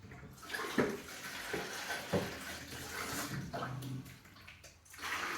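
Tap water runs steadily while dishes are washed in a sink, with clattering and splashing bursts over a continuous wet rush throughout.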